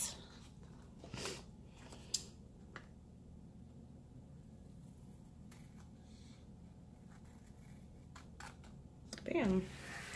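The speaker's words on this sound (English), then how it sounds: "I'm gonna cut off all the excess with my handy dandy scissors." A few quiet snips of scissors cutting paper, separated by pauses, over a low background hum.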